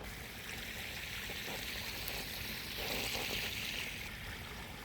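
Water gushing steadily from a running motor pump into a channel, a continuous broad wash with a brief louder surge midway, fairly distant and unbroken by talk.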